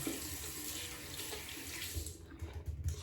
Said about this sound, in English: I'm gonna rinse my hand off a little bit before I put my strips on. Rinse out my comb too.